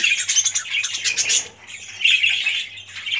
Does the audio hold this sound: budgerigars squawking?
yes